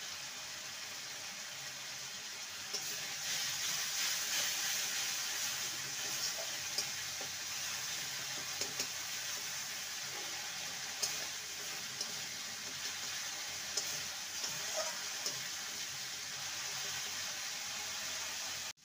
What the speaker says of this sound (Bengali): মশলাটা ভালো মতন কষে এসছে